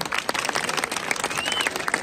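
A burst of crowd applause at a wedding party, many hands clapping densely and steadily for about two seconds.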